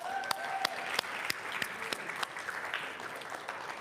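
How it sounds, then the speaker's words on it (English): A church congregation applauds during a service: dense, steady clapping from many hands with a few sharper claps standing out, close and lively, fairly even across the whole stretch with no talking over it. "Another round of applause"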